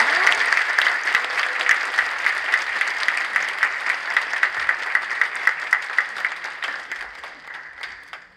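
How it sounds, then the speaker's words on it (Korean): Sustained applause from an audience following the first stage performance of a multicultural children's choir at a 2022 migrant multicultural choir competition, steady dense clapping with faint rhythmic accents, tapering off toward the end. "이주민 월드비전 센터 다문화 유소년 합창단의 첫무대 다시 한번 큰 박수 부탁드립니다"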